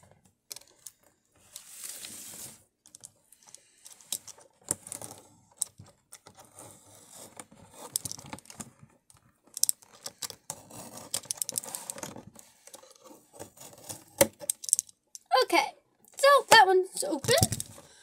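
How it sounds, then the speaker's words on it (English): Toy packaging for a Real Littles big pack is cut open, giving faint intermittent snips and plastic crinkles with a short cluster of sharper clicks near the end, under frequent talking from a child. "Now, let's cut this side."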